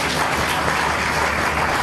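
An audience applauds at a First Lady's anniversary-celebration speech for the OAFLAD organization, a brief, dense, even wash of clapping heard alone.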